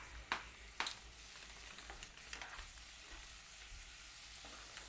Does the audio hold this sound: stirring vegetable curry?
yes